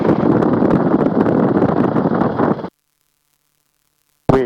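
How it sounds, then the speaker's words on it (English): Strong wind buffets the microphone in a loud, steady roar for a few seconds, then cuts to silence before a brief burst returns, at an airfield during Rotorway helicopter flight training. "This is getting a little windy up here."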